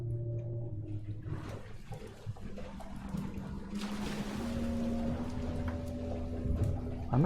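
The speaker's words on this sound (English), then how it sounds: "Why am I hearing splashing noise?" Splashing water in the boat video game FAR: Changing Tides, a rushing, sloshing wash that builds over a steady low mechanical hum and drone of the vessel.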